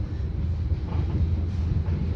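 A commuter train pulls into Porong station with a low, steady rumble of wheels and carriages rolling close by, a continuous heavy drone with no voices over it.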